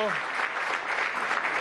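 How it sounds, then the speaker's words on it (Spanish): A crowd applauds at a presidential televised program for the community, steady close clapping that fills the whole moment, with a voice trailing off at the very start. "Un aplauso para la comunidad."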